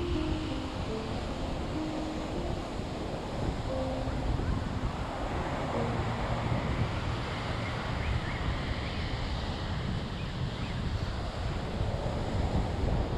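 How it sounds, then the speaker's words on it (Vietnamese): Rough seasonal surf rolls continuously onto Nha Trang beach under a strong wind, giving a constant loud wash of breaking waves with wind rumble on the microphone. "sóng vô cuồn cuộn liên tục và gió nó cũng mạnh nữa, sóng trắng xóa luôn"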